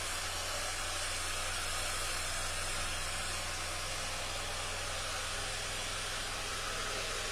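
Steady, loud hair dryer whirring with a broad airy roar and low motor hum, used for hover diffusing a child's curly hair at a live curly-hair education session; no talking.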